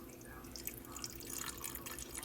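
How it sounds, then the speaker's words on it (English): Chicken stock from a whole baked chicken is poured into a soup pot for hamburger beef soup, a soft continuous trickle and splash of liquid, quiet and close with no talk. "I'm going to pour the chicken stock into it."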